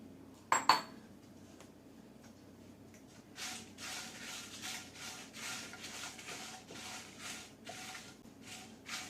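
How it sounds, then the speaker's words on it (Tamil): Round red chillies are dry roasted in a kadai without oil, with two sharp knocks at the start and then soft repeated rustling scrapes as they are stirred, quiet and close. "கடாயில் வந்து குண்டு மிளகாவை போட்டு வறுத்துக்கலாம்"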